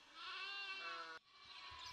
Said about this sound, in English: sheep graze freely